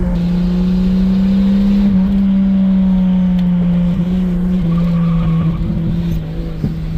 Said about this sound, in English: The engine just cut out for a second there.